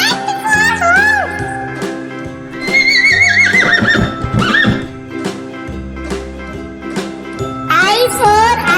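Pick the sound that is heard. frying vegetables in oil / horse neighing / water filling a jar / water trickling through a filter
horse neighing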